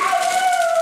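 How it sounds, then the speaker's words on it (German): A pet dog howls in a home kitchen, one steady, drawn-out wail that slides slowly downward in pitch over its whole length, fairly loud and continuous with no talk over it. "So, im Hintergrund jault mein Hund."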